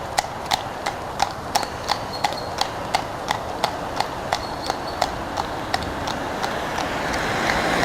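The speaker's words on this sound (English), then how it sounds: "Someone on horseback riding to church." Horse hooves clip-clopping on a village road as someone rides to church, a steady even walking rhythm of about twenty sharp hoof strikes, fairly near and clear over a quiet outdoor background.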